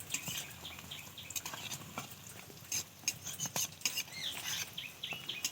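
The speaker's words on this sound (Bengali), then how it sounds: "একটু লাল লাল করে ভাজতে হবে, নাহলে ভালো লাগবে না।" Dal pakoras fry in oil at a roadside cart, a soft sizzle broken by clicking and scraping as the fritters are stirred and turned, fairly faint and close.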